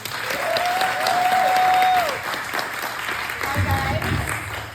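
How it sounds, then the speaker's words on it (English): Gala audience at the Kindness Ranch event applauds for a speaker, a loud, dense wash of clapping throughout, with a few tonal sounds and some voices over it. "Let's give a round of applause for Lori."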